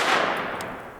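A single shot from a .22 Magnum (WMR) rifle firing 40-grain FMJ Federal ammunition, a loud sharp report with a short fading tail outdoors, alone and untouched by speech.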